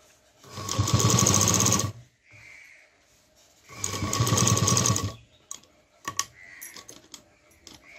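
A sewing machine joins fabric pieces for a handmade tiffin lunch bag in two short, close bursts of fast stitching separated by a pause, followed by faint clicks and fabric handling.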